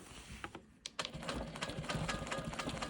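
A Quilt Maker Pro 20 quilting machine stitches in the ditch on a quilt block, starting with a few stuttering stops and starts before settling into a fast, steady, close mechanical whirring rattle.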